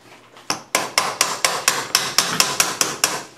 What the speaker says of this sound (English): We've lost our brass hammer.